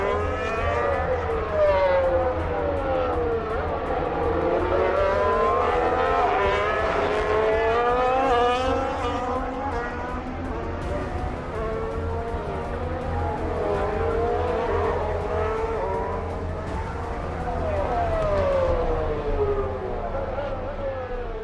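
Formula 1 race cars lap the Shanghai circuit, their high, whining engines rising and falling as cars sweep past one after another. The sound is loud and carries on for the whole stretch, with crowd murmur and voices in the background.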